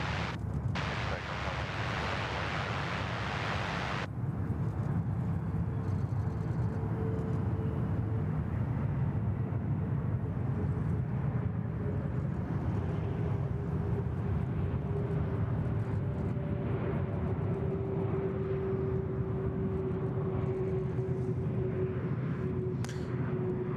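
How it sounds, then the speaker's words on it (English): A Qantas Airbus A330 rolls for takeoff on runway 34 left at Sydney Airport, a distant broad jet roar with wind buffeting the microphone, building steadily over a long stretch. "Qantas 643, the One World A330 just getting a roll on as well."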